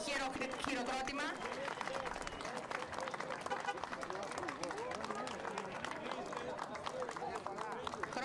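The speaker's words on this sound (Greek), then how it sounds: "για να κάνουμε ένα χειροκρότημα" A street crowd at a Greek diaspora parade in Boston keeps up steady, continuous applause and clapping, fairly distant and mixed with crowd babble and voices throughout.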